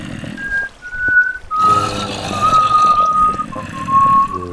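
A person whistles a series of sustained, steady tones, some held long and others shorter, loud and close, with a burst of game noise or background clutter partway through.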